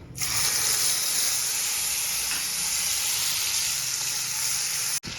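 A paste of tomato sauce and green chili added to hot oil in a wok for gravy, setting off a loud, steady, hissing sizzle that runs unbroken and ends with a sharp clack.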